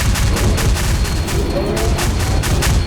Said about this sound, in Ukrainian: Йо, по нам теж стріляють.